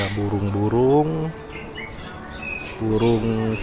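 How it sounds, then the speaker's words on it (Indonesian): Birds squawk in a zoo aviary at Lembang Park & Zoo, where a yellow bird of paradise is kept. There are two bursts of harsh, rising squawks at the start and end and faint chirps in between, with voices talking nearby. "Nah, ini adalah burung cendrawasih kuning teman-teman."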